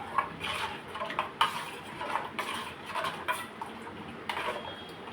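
A spoon stirs solkadhi made with kokum and salt in a pot, giving light irregular metallic clinks and scrapes with liquid swishing, close and moderately loud, with no talking.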